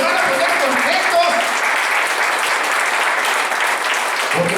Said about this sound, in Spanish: Regalen una ofrenda de palmas.